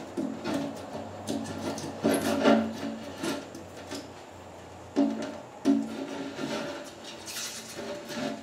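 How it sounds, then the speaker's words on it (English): A razor blade scrapes adhesive goo off a picture window pane in rough, repeated strokes with short pauses between bursts, close and fairly loud, with no speech. "I'm gonna scrape all that off there."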